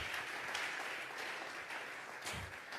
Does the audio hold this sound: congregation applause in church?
yes